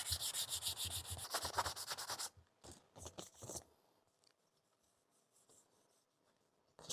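Sandpaper is rubbed by hand over the scratched plastic fairing of a Yamaha R 125 motorcycle to roughen it, a fast rhythmic scratchy rasping for about two seconds, then a few separate strokes that fade into quiet.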